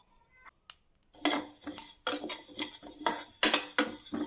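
Fenugreek, cumin, fennel seeds and pepper dry-roasting in a pan for mango pickle powder, with a spoon scraping and clinking against the metal in a busy, steady stream of rattling strokes after a near-silent start.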